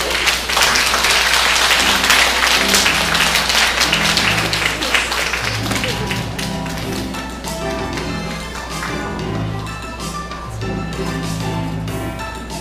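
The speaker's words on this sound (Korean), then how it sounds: "나오실 때 큰 박수 부탁드립니다." A large audience at a talk show claps loudly to welcome a travel writer onto the stage. The applause is strongest at the start and fades over several seconds while stage music plays underneath and continues after it.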